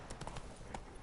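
Hooves of Roach, a horse in the Witcher 3 Blood and Wine game, clip-clopping in a few quick, moderately near steps over a faint background bed.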